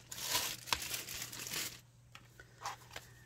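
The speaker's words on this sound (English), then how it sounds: "Let me get this out of the plastic bag." A leather planner cover slides out of a plastic bag with loud, close crinkling and rustling, which then eases into a few softer, scattered crackles.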